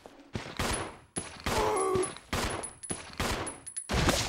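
Shotgun blasts in the survival horror game Resident Evil Zero, heard as a run of loud, sharp reports spaced roughly half a second apart, with high tonal game effects layered between the shots.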